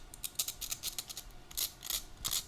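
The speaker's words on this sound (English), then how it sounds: "Carefully use your nippers to trim away as much of this as you can" Hobby nippers snipping metal spurs from small photo-etched model car parts make a string of quick, faint, crisp clicks and snips at close range, irregularly spaced, with no voices.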